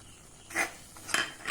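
Lemon pickle being stirred with chili powder, two or three brief close scrapes and clinks of a utensil against a pot, with quiet gaps between them.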